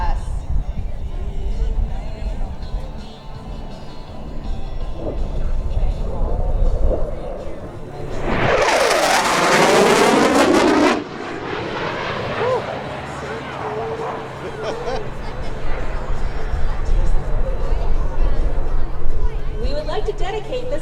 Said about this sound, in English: Flying right on the edge of the sound barrier, watch from the right for the high-speed pass.